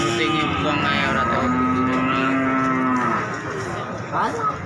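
A Pegon breeding cow at a cattle market lows in one long drawn-out moo, loud and close, with market chatter and voices around it.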